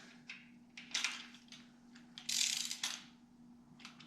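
A wrench backs off an injector adjustment screw on a Cummins Big Cam 3 diesel engine in a Peterbilt 359, making a few short, quiet ratcheting clicks and metallic turns in small increments, close by, with no talking.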